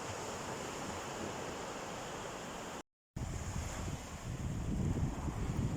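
Sea waves wash onto the shore at Khanom Beach, Thailand, in the early morning near dawn, a steady broadband surf roar with wind noise on the microphone, briefly cut off before resuming slightly louder.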